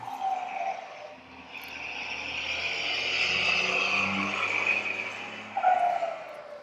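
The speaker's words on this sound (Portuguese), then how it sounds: "tem uma obra gigante aqui do lado, está fazendo esses barulhos de caminhão pesado" Heavy trucks at a large construction site next door produce a sustained roaring, grinding engine noise that swells and fades over several seconds, steady and fairly loud with no voices.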